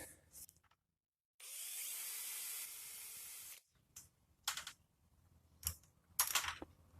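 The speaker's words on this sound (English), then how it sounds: "We might have to drill it, because it won't fit through the other piece of metal." A drill grinds through the metal of an expanding gate in one sustained, hissing run of about two seconds, followed by a few brief clattering knocks.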